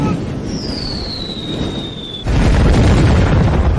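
A grenade in a video game battle: a falling whistle glides down for about two seconds, then a loud, dense explosive roar takes over and holds to the end, close and heavy.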